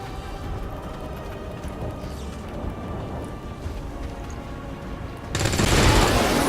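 Gunfire from the video game XCOM: War of the Chosen rattles steadily in a dense fusillade, then swells into a louder, harsher blast near the end.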